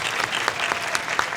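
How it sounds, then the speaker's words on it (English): Applause from an audience at a WonderCon 2025 panel, a steady wash of clapping with a few sharper claps poking through, moderately loud and sustained through the short stretch. "can we get a round of applause for my man Justin?"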